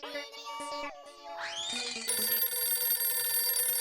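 A telephone rings with bright, repeated electronic tones, starting as a melodic chime and switching to a sustained trilling ring, fairly close and clear.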